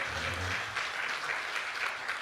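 Audience at a Hindi comic poetry recital breaks into sustained applause, a dense, even wash of clapping from a sizable crowd heard at moderate distance.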